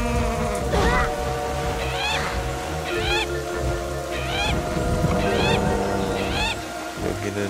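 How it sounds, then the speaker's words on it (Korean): In Zelda: The Wind Waker, a bird flying in gives repeated short, chirping squawks about once a second, fairly loud over a busy game background with rain-like ambience. "새가 날라오는데"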